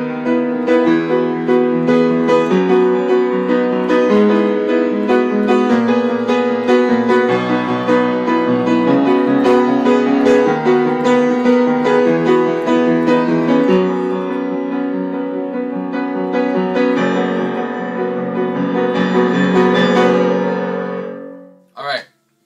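A piano plays the instrumental part of a song, a repeating pattern in groups of six. It is loud, close and steady throughout, with dense sustained chords that cut off near the end. No voice is heard.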